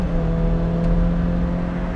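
A car being driven hard on a winding canyon road, its engine holding a steady, loud drone with a strong low hum and tire and road noise throughout, close to the cabin.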